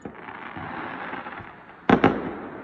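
New Year fireworks crackle under a background hum, then two sharp, loud bursts pop in quick succession near the end.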